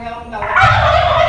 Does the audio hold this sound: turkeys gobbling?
yes